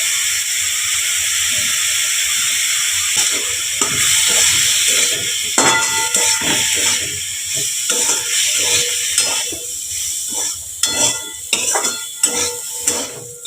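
Red amaranth leaves with crushed fried lentil badi frying in a pan: a steady steamy hiss at first, then metal utensil clinks and scrapes against the pan, close and fairly loud.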